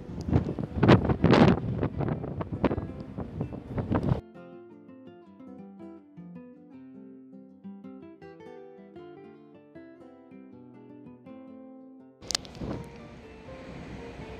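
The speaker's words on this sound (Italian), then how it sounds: "essendoci molto vento e oscillando così tanto la barca non c'è nessuno" Strong wind blows across the open deck of a rocking cruise ship in rough seas, near the mini golf area. Loud gusty rumbling buffets the microphone at the start and end, with a calmer stretch of soft tonal sound between.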